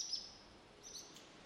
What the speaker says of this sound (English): Just the birds here now.